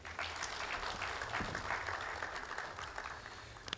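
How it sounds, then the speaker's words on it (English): A crowd at a Kenyan tea centenary celebration claps steadily for a chairman, a dense, even burst of applause lasting a few seconds. "Can we clap for the Chairman?"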